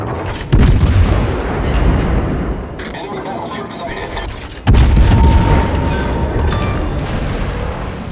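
Heavy naval artillery salvos from the cruiser Annapolis in World of Warships. A deep boom at the start, then a second big blast midway, each trailing into long rumbling roars, with a game announcer voice over the top.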